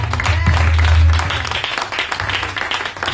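Enthusiastic applause and cheering from a church gathering acclaiming the Lord during a book presentation, a burst of clapping that swells then thins, with voices calling out over it.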